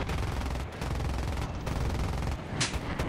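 An AD-4 aircraft in War Thunder fires its guns in rapid sustained bursts, a dense rattling fusillade broken by a few short pauses, fairly close and with no voices.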